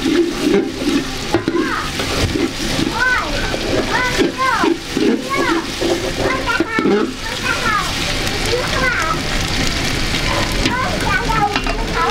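Ginger and garlic go into a curry pan already loaded with spices and fry with a loud, steady sizzle and stirring scrapes, while voices, including a child's, talk over it throughout.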